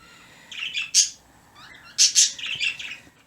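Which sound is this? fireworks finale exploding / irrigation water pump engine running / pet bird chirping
pet bird chirping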